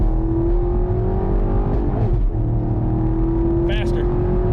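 A 6th-generation Chevrolet Camaro SS with a manual clutch accelerating hard through no-lift shifts, heard from inside as a loud, steady engine drone that climbs slightly in pitch, with excited voices talking over it.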